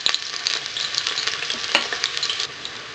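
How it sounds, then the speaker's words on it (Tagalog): Onions sautéing in hot olive oil in a cooking pot for braised beef, a steady close sizzle with frequent crackling pops and light stirring scrapes, fading slightly at the end. "ilalagay na natin dito yung sibuyas. Igigisa lang natin to."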